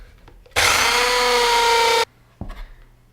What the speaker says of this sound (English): the plan is I'm actually going to just drill out these screws